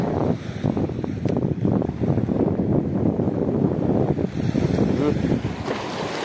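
Strong wind roars across the microphone as large sea waves surge and splash around a fishing boat, loud and constant, with a faint voice briefly under the noise.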